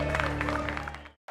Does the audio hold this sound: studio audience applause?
yes